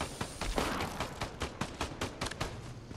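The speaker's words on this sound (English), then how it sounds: "They're shooting at us." Sustained Fortnite gunfire, a dense run of rapid shots with distinct cracks pulsing steadily throughout, fairly close, with no talk.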